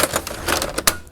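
A Kyocera FS 4200DN mono laser printer being closed up, with a quick run of sharp plastic clacks and snaps from its panels, the loudest latch snap near the end, close and fairly loud.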